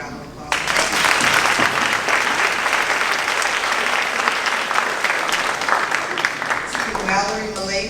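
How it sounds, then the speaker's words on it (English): Pageant audience bursts into loud, sustained applause and cheering that holds steady for several seconds, with a voice beginning to speak over it near the end. "please give all of them a round of applause"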